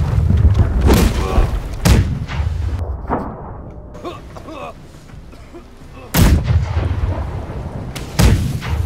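Ship cannons firing in the naval game Blackwake, a series of heavy booming blasts spaced a second or more apart with rumbling echoes and background battle noise between them.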